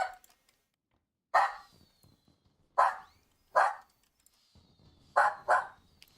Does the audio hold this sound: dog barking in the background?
yes